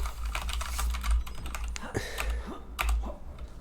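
Rapid keystrokes clatter on a nearby computer keyboard in uneven bursts over a steady low electrical hum.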